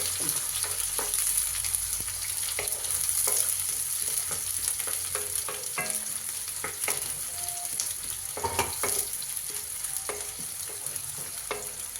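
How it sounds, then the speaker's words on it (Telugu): Onions frying in a pan for gongura chicken, giving a continuous close sizzle and crackle with occasional spatula scrapes and taps, no voices. "ఆనియన్స్ అయితే బాగా వేగాలి"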